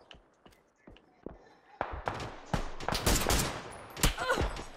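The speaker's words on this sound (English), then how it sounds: "They're shooting from the lower wall as well." PUBG gunfire crackles from sparse single shots into dense, rapid bursts, sharp and close, growing louder and busier toward the end, while a voice talks over the shooting.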